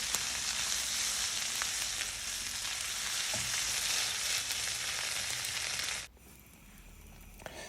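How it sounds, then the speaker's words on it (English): Chopped cabbage stir-fries in olive oil over high heat in a pot, a loud continuous sizzle with stirring scrapes that cuts off abruptly near the end, leaving quiet room tone. "So I'm going to be stir frying this on a high heat for about 8 minutes."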